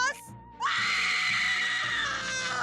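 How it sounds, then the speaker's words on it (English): A female cartoon alien character lets out one long, loud, high-pitched scream that holds steady after a brief shorter cry. "Why is she screaming in bro face like that?"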